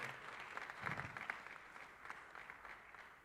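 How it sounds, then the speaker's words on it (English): A round of applause from the audience at a development finance summit in Uganda, steady and moderately loud, with scattered distinct claps standing out early on. "Ladies and gentlemen, let's give a round of applause to Dr."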